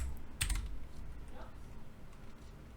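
A computer keyboard's keys are pressed in a few quiet taps, one louder click early on, with faint room noise and no talking.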